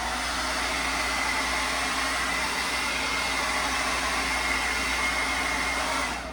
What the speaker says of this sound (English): get a heat source like your blow dryer and just fluff them out